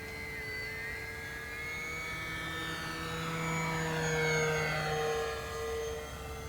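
A KAVAN Norden 1600mm RC model airplane flies overhead, its electric motor and propeller whining steadily across the whole stretch, swelling slightly louder midway before easing off again.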